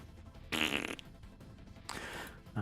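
A person imitates fart sounds with their mouth: two blurting, sputtering bursts about a second long, then a brief third puff, fairly close and isolated.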